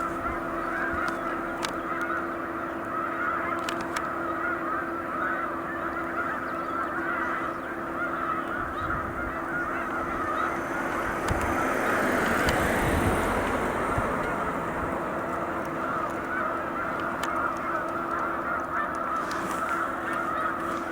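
A large flock of snow geese on Cayuga Lake honks continuously, a dense overlapping chorus of many birds near and far that swells in the middle and stays steady throughout with no talk.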